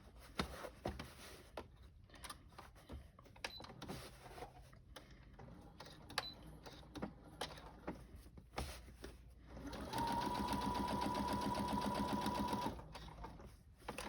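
A sewing machine stitching the lining of a fabric book sleeve, first with quiet handling and fabric rustles, then a loud steady whirring run of about three seconds near the end.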